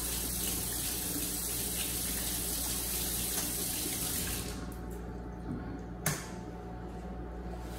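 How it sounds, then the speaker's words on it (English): A kitchen tap runs with a steady, close rush of water for hand washing, then shuts off partway through, followed by quieter handling sounds and a brief knock. "we should wash our hands with hand soap, or you could use your dish soap and running water."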